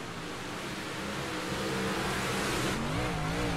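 A race car engine on a dirt oval track accelerates steadily and loudly, with rising, whining pitch as the driver gets back on the throttle, close and continuous with no talk.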